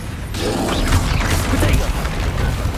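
Spell blasts and crashing impacts in Hogwarts Legacy combat, a dense loud wash of booms and rumble filling the whole moment, with a voice partly audible underneath.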